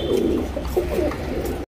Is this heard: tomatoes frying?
no